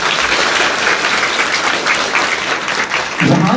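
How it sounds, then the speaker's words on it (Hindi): Audience applause at a school quiz event, Himachal Utsav 2025 at a Shimla school, a steady dense clatter of clapping from a roomful of people filling the whole stretch, swelling slightly near the end. "तालियां कम क्यों आ रही है?"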